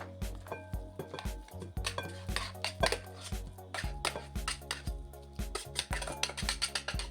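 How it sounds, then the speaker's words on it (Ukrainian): Mashed potatoes being transferred into a deep bowl make a close series of rhythmic clinks and knocks of a utensil against the bowl, with soft scraping between, and no talk. "Перекладаю картопляне пюре в глибоку миску"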